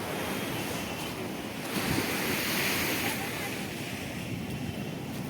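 Rough sea waves at Digha beach crash and wash in continuously, a broad roar of surf mixed with gusty wind buffeting the microphone, steady and fairly loud throughout.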